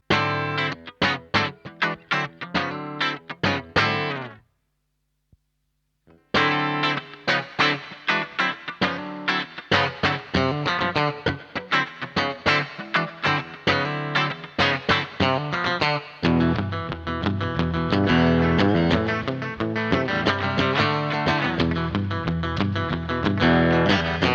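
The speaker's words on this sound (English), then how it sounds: "The reflections in a plate reverb are a little bit more diffuse as opposed to a hall reverb." An electric guitar runs through the plate setting of a Walrus Audio Fathom reverb pedal, with strummed chords and picked notes trailing diffuse, lingering reflections, a brief silence, then a dense, washy sustained passage.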